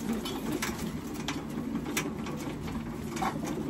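Racing pigeons settle at the loft after a 250-mile race. Faint cooing and soft fluttering sound close by over a steady background hiss.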